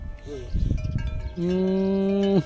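A water buffalo in a rural tribal village lets out a long, deep, droning moo near the end, loud and close, after some shuffling and rustling outdoors.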